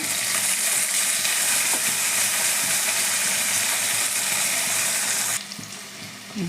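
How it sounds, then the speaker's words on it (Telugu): Green chilies and curry leaves sizzle in hot oil in a pan, a loud, close, continuous frying hiss that drops suddenly near the end as the heat is lowered. "పచ్చిమిరపకాయ ఒక్కలు సిమ్ములో పెట్టి కొంచెం దూరం ఉండే వేయండి లేదంటే చిట్టుతుంది"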